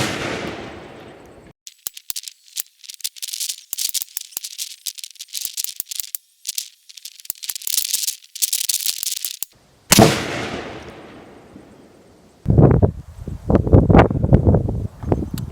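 A PSA 10.5-inch AR pistol with an SBA3 brace fires loud, close shots, each followed by a decaying ring, with clattering and rattling noises in between.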